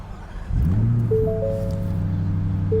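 A 2024 Ford F-150 Raptor R engine cranks and catches at about half a second, then settles into a steady, loud idle rumble with a faint whine running through it.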